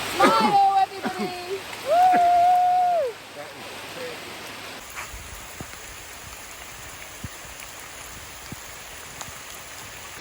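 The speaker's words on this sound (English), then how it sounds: "So this is absolutely torrential rain." Heavy torrential rain pours down during a long walk through thunderstorms in Canterbury, giving a dense, constant hiss. Voices shout and cheer over it early on, then the downpour continues alone.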